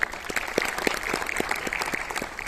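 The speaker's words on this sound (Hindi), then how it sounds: "तो जोरदार तालियां उन सबके लिए जिनको आज अवार्ड्स मिले हैं" An audience at a comedy show's office awards event claps for award winners, a brief burst of dense applause with rhythmic clapping throughout.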